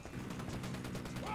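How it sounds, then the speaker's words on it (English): Gunfire in Ghost Recon as Unidad forces trade shots with the cartel, a dense, continuous crackle of rapid shots at steady volume with no pause. "Shots fired. Unidad's engaging the cartel."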